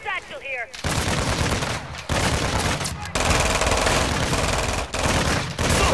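Sustained automatic gunfire in Call of Duty: DMZ, loud dense bursts broken by short gaps, with a voice speaking briefly at the start.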